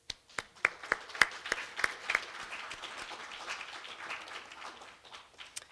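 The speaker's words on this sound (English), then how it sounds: "let's take a moment to give a loud and heartfelt round of applause to your faculty, staff, mentors, and loved one" Scattered claps from a graduation audience at a physical therapy hooding and pinning ceremony, starting as a few sharp hand claps and quickly thickening into a steady, moderately distant wash of applause that fades at the end.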